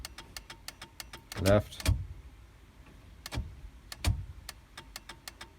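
Turn indicator clicking on a freshly rewired car dashboard, a steady series of sharp ticks that runs throughout, with louder clunks and switch noises between them and a brief spoken word.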